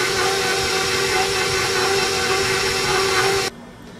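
An electric mixer creams butter and sugar for hermit cookie dough at low speed: a loud, steady motor whirr that runs unbroken, then cuts down sharply to a quieter hum near the end.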